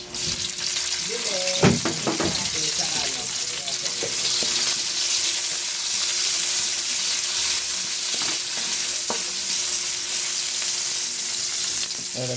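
Garlic and onion sautéing in hot oil in a pan for ginisang alamang, a steady close sizzle and hiss with a few brief clinks and stirring scrapes.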